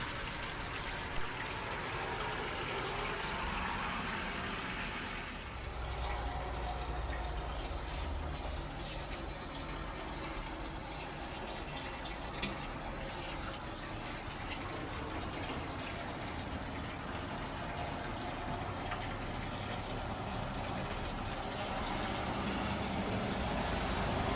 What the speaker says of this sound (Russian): Нужно включить воду, чтобы она успела набраться к вечеру и не остыть.